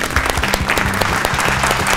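Loud, sustained clapping from a studio audience at a family game show, a dense burst of many hands lasting a couple of seconds with no one speaking.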